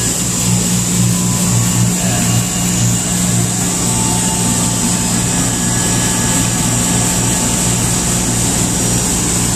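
A walk-in chiller's compressor unit runs with a steady, loud mechanical hum and a constant high whine, unbroken and close, with no voices.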